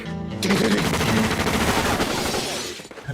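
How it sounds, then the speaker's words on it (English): Dense, continuous movie gunfire from a Tarantino film, rapid automatic bursts that fill almost the whole span, loud and close with no talking. "All the shooting."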